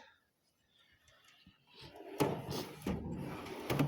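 A workshop tool drawer slides open in a garage-style workshop, a quiet start followed by a clattering rattle of metal tools shifting inside, with a few sharp knocks at the end.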